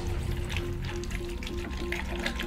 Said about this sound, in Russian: для него нам понадобится блюдце, которое мы наполняем водой.